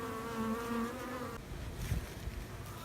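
Honeybees buzz around a beekeeper working open hives, a steady droning hum from close by, shifting in pitch as individual bees pass, with a brief rustle of handling midway.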